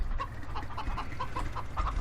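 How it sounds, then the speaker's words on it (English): Chickens cluck repeatedly in the farming game Farming Simulator 2013 on the Smithfield farm, a steady run of short clucks over a constant low rumble, fairly close, with no voices. "Get around all these chickens."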